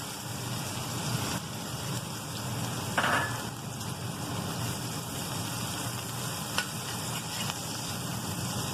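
Finely chopped onions fry on a hot tawa for dhaba-style tawa kaleji, giving a steady, close sizzle with soft stirring scrapes and one brief louder burst of spitting partway through.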